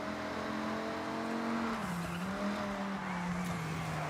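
A car in a racing video game runs on a track with a steady, loud engine drone that dips in pitch partway through, as if shifting gears, with some tire noise and no talk.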